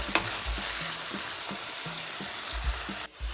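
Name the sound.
ground beef frying and sizzling in a pan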